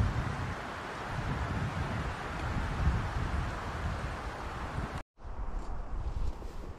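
Wind gusts through the Arizona mountains of the Catalinas and Santa Ritas, a continuous low rumbling buffet against the microphone with a brief dropout just past five seconds, and no voices.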